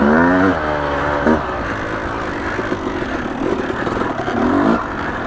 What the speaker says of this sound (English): I need to keep the bike running as much as I can.